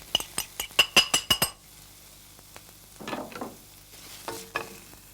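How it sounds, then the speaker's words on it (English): Spring onion whites cooking gently in a little peanut and sesame oil, with a quick run of sharp utensil clinks and scrapes against the pan at first, then quieter stirring and a low background sizzle. "In a little oil, a couple of teaspoons of peanut oil, and a teaspoon or so of sesame oil, I gently cook a couple of tablespoons of spring onion"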